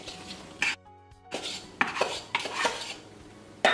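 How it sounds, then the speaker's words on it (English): Metal utensil clanks and scrapes against a pan while small peeled Granny Smith apple pieces are stirred, a few sharp knocks separated by softer shuffling scrapes, close and fairly loud. "Now you're just going to mix this until the apples get coated in all that goodness."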